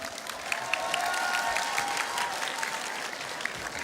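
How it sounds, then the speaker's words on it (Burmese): Steady audience applause at a Chin cultural festival, welcoming an Asho family dance troupe to the stage; dense, even clapping from a large crowd throughout, with no talk over it. "လက်ခုပ်အားရပါရတီးပြီးတော့ကြိုဆိုကြရအောင်နော်"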